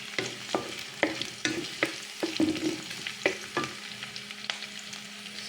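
Food sizzles and fries in a pan while a utensil stirs and scrapes it, giving irregular clicks and knocks over a steady crackling hiss, close up with no voices.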